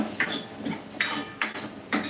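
A spoon scrapes and clinks against a cooking pot as sambar powder is stirred in, giving four or five distinct metallic taps spaced about half a second apart, close and fairly quiet with no talking.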